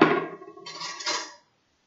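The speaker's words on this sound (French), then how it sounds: "On compte ensemble combien je mets de cuillères dans la boîte au départ." A spoon drops into a box with a single bright metallic clink that rings and fades away within about a second and a half.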